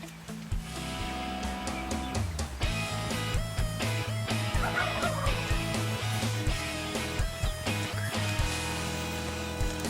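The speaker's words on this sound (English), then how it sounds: "These turkeys just keep working their way and getting closer." Wild turkeys gobble repeatedly in rapid rattling bursts, several birds overlapping, fairly close and loud, over a steady background hum.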